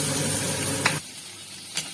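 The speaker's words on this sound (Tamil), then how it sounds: "இது கொஞ்சம் வதக்கிக்கலாம்." Finely chopped onion sautés in a pan for mushroom fried rice, a loud continuous sizzle with a stirring scrape that cuts off abruptly partway through.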